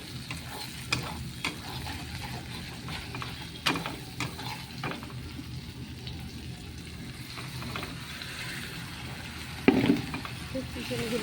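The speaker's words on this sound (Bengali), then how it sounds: "চিকেনগুলো সব ঢেলে দিলাম" Chicken pieces frying in a pan with tomato, capsicum, onion and garlic give a steady close sizzle with scattered stirring scrapes and one sharp clatter near the end, with no talk.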